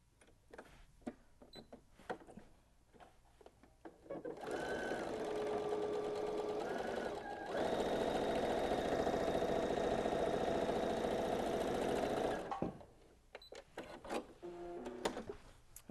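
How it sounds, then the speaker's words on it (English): A sewing machine runs steadily for about eight seconds, stitching a 1/2 inch seam in fabric for a modern clutch with boxed corners. The whirring motor is loud and close, with a brief pause in the middle and quieter handling noises before and after. "So let's head over to the sewing machine."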